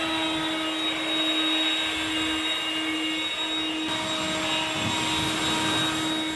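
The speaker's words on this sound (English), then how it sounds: "as soon as I just turn the blower on" A leaf blower runs in an Australian rainforest garden with a loud, steady, whining roar that holds a constant pitch for several seconds, close by and alone.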